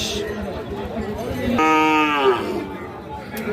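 Sahiwal breed bull calves at a livestock market, one drawn-out moo rising clearly over a busy crowd murmur and nearby chatter.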